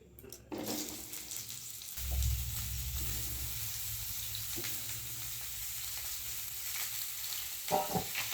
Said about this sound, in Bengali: কড়াইয়ে তেল দিয়ে দিয়েছি, কেটে রাখা সবজিগুলো তেলের মধ্যে দিয়ে দেবো